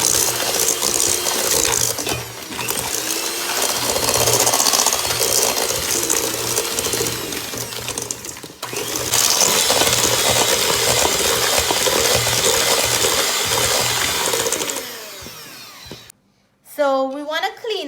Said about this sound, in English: So now we're going to mix this together.